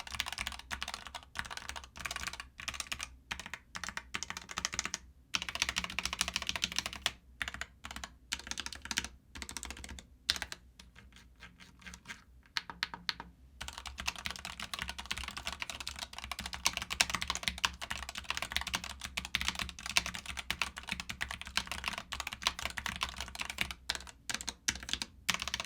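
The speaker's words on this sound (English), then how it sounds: "the switches on this keyboard are the Gateron adjustable switches with rapid trigger" Typing on a Turtle Beach keyboard fitted with Gateron adjustable rapid-trigger switches gives a dense, steady stream of close clacking keystrokes with brief pauses, faint and alone without voices.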